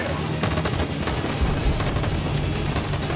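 Gunfire in the Detroit: Become Human video game, a dense sustained barrage of loud rapid shots and bursts filling the whole stretch, close and continuous.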